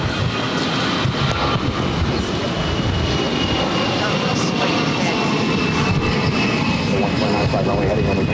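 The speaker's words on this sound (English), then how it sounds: "This is Delta Airlines 2785 taking off to Charleston on the A319." A Delta Air Lines Airbus A319 jet takes off from Boston Logan, its engines giving a loud, steady broadband roar throughout, with faint voices in the background.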